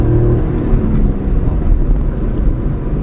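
A 2017 Fiat Uno with a 1.0 three-cylinder Firefly engine accelerates, giving a loud, dense engine drone heard close up that holds steady throughout without any talking.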